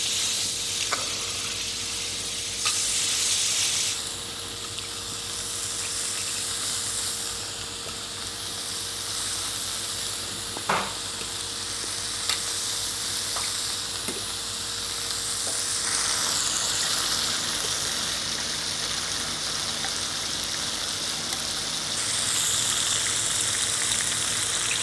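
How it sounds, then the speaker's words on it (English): Pork belly sizzling on a Korean barbecue, a loud, steady frying hiss up close that runs throughout, with occasional faint clicks and a small clatter in the background. "Now I'm going to cook pork belly."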